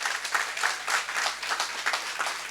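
Audience applause at a talk on a professional journey, a steady wash of many hands clapping with slightly rising and falling bursts, fairly close and alone without voices.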